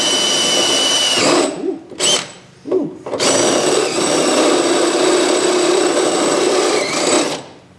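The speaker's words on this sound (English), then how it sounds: "Get your dull unibit. in there." Power drill driving a dull step drill bit into metal during a dual exhaust install on a 1968 Chrysler 300: a loud close whine that cuts out twice briefly, then runs steadily before stopping.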